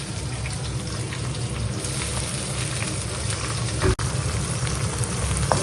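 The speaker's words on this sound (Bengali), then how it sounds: "আর দিয়ে দিচ্ছি পেঁয়াজ, কাঁচা লঙ্কাও একসাথে দিয়ে দিচ্ছি আমি।" Onions and green chillies fry in hot oil with a steady, close, bubbling sizzle, and a brief clatter comes near the end.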